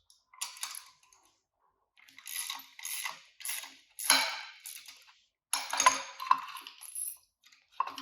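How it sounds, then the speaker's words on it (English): Clamping bolts being loosened on a Radial Pro template fixed to a bolster plate, heard as bursts of metallic ratcheting in several short runs separated by pauses, close by and alone with no talking. "So we'll loosen up the clamping bolts."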